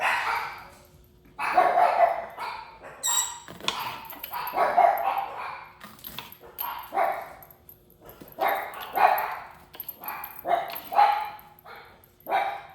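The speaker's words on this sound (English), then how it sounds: "there's the dog again." A dog barks repeatedly in irregular bursts, moderately close, with short pauses between barks and no voices.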